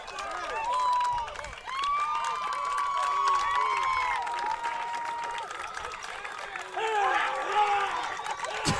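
An excited fan cheering at a high school sectional baseball game, Winamac vs Boone Grove: loud shouts and whoops over steady crowd noise and scattered clapping, lasting throughout and heard from the stands.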